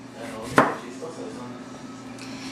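A kitchen knife slices the end off a lemon on a cutting board while prepping posole, one sharp close chop against the board amid quiet room tone, followed by faint softer knocks.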